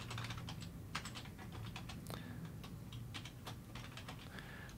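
Brisk, irregular keystrokes on a computer keyboard while entering terminal commands, quiet and close, with short bursts and brief pauses and no voices.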